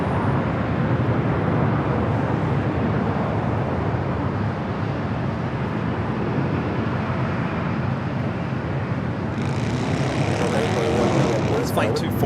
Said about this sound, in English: Going around on its first attempt. Flying directly over El Segundo.